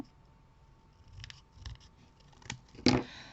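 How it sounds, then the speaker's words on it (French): Scissors snip through paper while trimming a recycled Christmas window display, a few soft cuts building to one louder, sharper snip near the end, close and alone. "je pense que je vais utiliser ciseaux parce que sinon, je ne suis pas rendue"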